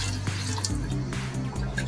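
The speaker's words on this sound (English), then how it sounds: "so just pour your chicken stock into the pot." Chicken stock pours into a cooking pot, a steady close liquid splash and trickle with small drips, heard alone for under two seconds.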